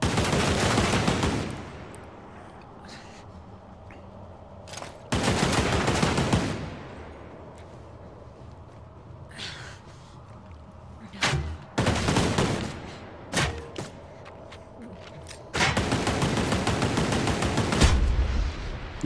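Turret gunfire in a video game shooter, several long loud bursts of automatic fire separated by quieter gaps with a few single sharp shots, no talking.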